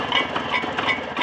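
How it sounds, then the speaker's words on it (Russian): Jawa 634 motorcycle engine with ringing cast-iron cylinder fins running near at hand, a steady rapid throbbing with light metallic ticking over the rhythm and no speech. "звук мотора"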